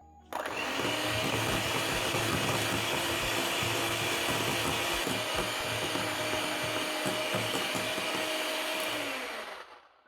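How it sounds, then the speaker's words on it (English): An electric hand mixer running at high speed beats butter, margarine and eggs for a cake batter, giving a loud, steady whirring drone that starts abruptly and winds down at the end, with no talk. "I'm using high speed to mix up my butter, margarine and eggs because I want them to be very light"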